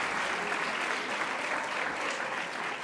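Steady, dense applause rises from the audience at a hotel school closing ceremony, a uniform wash of clapping that holds for the whole stretch with no voices over it.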